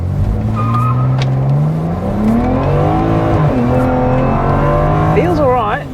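A tuned twin-turbo BMW 335i E92 coupe launches hard from a standstill, its engine climbing in pitch through rising gear pulls with brief dips at the shifts, loud from inside the cabin, with a short tire chirp near the end.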